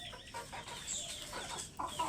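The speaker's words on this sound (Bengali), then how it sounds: "তো দেখছেন চলে আসছে একটা মুরগি কালো" Chickens, including a black hen, cluck and squabble continuously at close range while being fed a morning meal of mash, a busy overlapping chatter of short calls with no talk.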